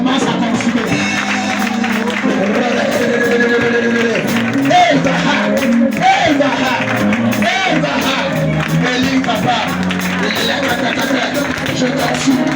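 Congregation at a church worship service applauding and cheering, a loud, sustained mix of clapping, shouts and whoops from a crowd, with a voice speaking over it.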